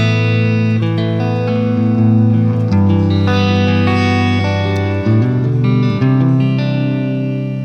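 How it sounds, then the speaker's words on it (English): Electric guitar chords ring out loud and sustained from a DIY Stratocaster kit with PAF pickups, with a clean tone and a wash of Guitar Rig 7 Funky Clean reverb trailing each change. "The reverb is called Funky Clean"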